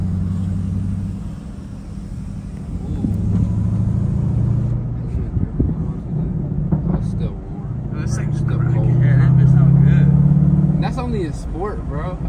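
A Dodge Durango SRT 392 rolls over road bumps from inside the cabin, its engine a steady low rumble that swells and eases with faint thumps and rattles, while people talk throughout.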